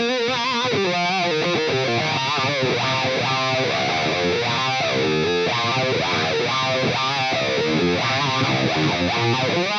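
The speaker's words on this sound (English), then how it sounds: "this just gives you a really vocal, pleasant kind of wah sound like this" Distorted electric guitar runs through a Crybaby wah block on a Fractal AX8 with an Uberschall preset, playing a continuous vocal, sweeping wah phrase with throaty vowel-like tone shifts, loud and alone.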